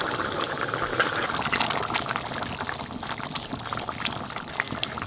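Pumpkin and shrimp curry simmers in a pan, giving a steady, soft bubbling hiss with faint liquid pops throughout, close and low in level with no talking.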